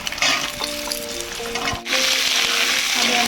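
Spices, potato and green beans fry in hot oil in a pan, giving a steady close sizzle with scraping stir sounds and a brief dip before the frying surges again.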